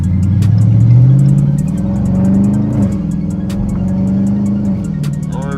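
A loud Dodge Challenger R/T engine revs hard in Sunday traffic, a deep rumbling roar that swells and falls through several rising pulls, close and continuous with no talk.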